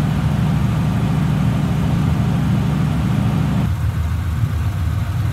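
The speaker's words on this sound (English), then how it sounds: "Got it off that higher idle. Idling nice and smooth." The flathead engine of a 1950 Ford Tudor idling smoothly at a steady low rumble, heard up close and without talk. It settles slightly lower near the end as it drops off a higher idle.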